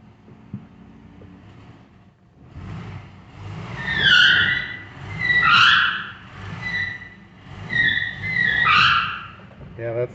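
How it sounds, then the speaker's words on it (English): A 1968 Mercedes-Benz 280S rear tire squeals in repeated high, wavering bursts over a low engine rumble, loud and close, with several rising and falling pulses. "that's the back tire jamming"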